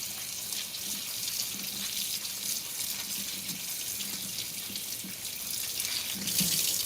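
Cold water runs from a kitchen tap into the sink while salmon croquettes cook in a skillet, making a continuous close splashing hiss with a faint sizzle beneath and no talking.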